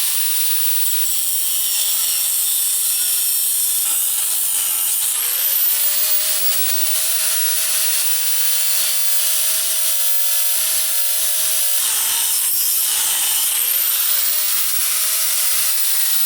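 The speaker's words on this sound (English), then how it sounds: "just start cutting into this weld" A loud, continuous high grinding hiss as a cutting tool works through a weld on a 1967 Ford F100 frame, with a steady whining tone that drops out briefly twice before resuming; no voices.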